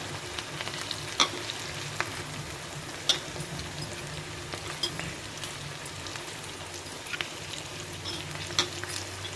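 A batch of banana flower 65 deep-fries in oil over a medium flame, a dense, constant bubbling sizzle with occasional sharp crackles and pops.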